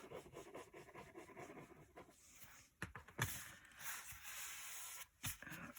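Burnishing down a glued paper flap on a handmade mini album pocket: steady, close rubbing and scraping strokes of fairly low level, with a few brief sharper scuffs and pauses between passes.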